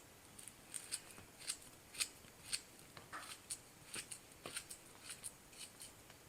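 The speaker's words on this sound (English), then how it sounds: "Just cut it right here in the banana peel and drop in your banana pieces." A knife slices banana pieces inside the peel in a kitchen, making a quick run of short, crisp snipping cuts that are soft and close with a near-regular rhythm.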